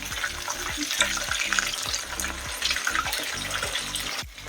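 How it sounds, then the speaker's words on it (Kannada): Mint chicken kebab pieces deep frying in hot oil, a steady dense bubbling crackle that runs throughout, close and fairly loud, with faint scraping and no talk. "ಇದನ್ನು ಇನ್ನೊಂದು ಸರಿ ಫ್ರೈ ಮಾಡ್ಕೋಬೇಕು ಇನ್ನೊಂದು ಟ್ರಿಪ್ ಬೇಯಿಸ್ಕೊಳ್ಳೋಣ ಅಂತ ಹಾಕೋತಾ ಇದ್ದೀನಿ"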